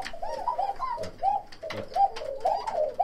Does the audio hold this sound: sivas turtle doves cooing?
yes